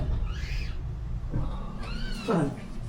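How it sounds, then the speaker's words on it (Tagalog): A wet rubber slipper squeaks underfoot in a few short, whiny, meow-like chirps, close by, with low background noise between them. "Pag nababasa yung tsinelas ko tumutunog."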